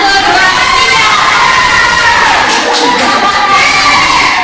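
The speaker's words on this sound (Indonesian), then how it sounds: "Keluarkan apa yang ingin Ibu keluarkan. Teriak boleh." A group of elementary school teachers shouts together at full volume after a spoken countdown. The dense, sustained roar of many voices fills the whole stretch with no pause.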